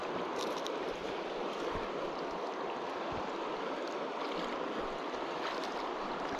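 River water flows steadily beneath a bridge built in 1926, a constant broad rushing wash with occasional low thumps, close and fairly loud throughout.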